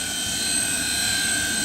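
A cheap toy two-channel infrared RC helicopter is flying, its small motor and rotor giving a steady, high-pitched whine that stays constant and fairly close throughout.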